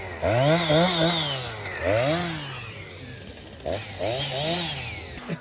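A chainsaw cutting through a maypole, its engine revving up and down in repeated surges with a loud, buzzing whine, close by and continuous over a busy outdoor background.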